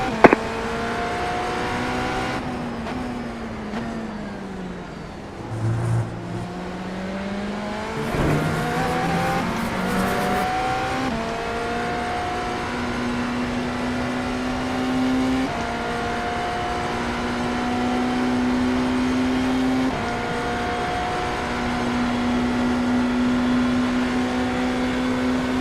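A BMW GTP prototype race car in iRacing at Watkins Glen, its engine revving up through gears with rising pitch sweeps and then holding a steady high drone, loud and continuous with no talk.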